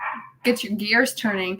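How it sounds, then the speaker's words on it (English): A loud dog barks and yelps nearby indoors while a person keeps talking over it. "I don't know if y'all can hear that barking."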